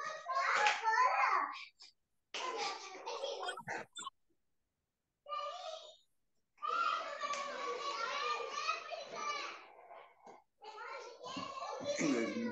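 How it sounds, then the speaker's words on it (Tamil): Children's voices chatter and call out in bursts while playing outdoors in a gated residential community, fairly close, with short pauses between the shouts. "அந்த குழந்தைங்க சவுண்டா இருக்கு"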